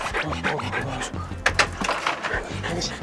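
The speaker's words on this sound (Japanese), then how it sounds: "盆栽園に犬はいるもんなんですか？" A dog pants rapidly and steadily up close at a bonsai nursery, the breathing continuing for several seconds while people talk nearby.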